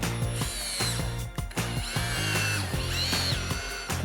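A power drill drives screws through the back slats of an Adirondack chair into a 2x4, giving a steady whirring motor whine with short pauses and ratcheting clicks as each screw seats, close and loud.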